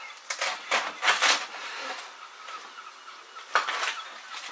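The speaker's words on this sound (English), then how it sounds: "I simply quarter it lengthwise, and then it's really easy to chop up" Knife chopping through a sweetheart cabbage on a kitchen board, a few close crisp cuts in quick clusters, then a pause and one more burst of chopping.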